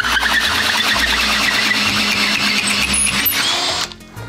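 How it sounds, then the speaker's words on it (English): A log tenoner spun by a drill in low gear cuts a tenon on the end of a large log, giving a steady loud grinding, whirring roar that runs for nearly four seconds and then stops. "put this in your drill, put it in low gear, hang onto it tight"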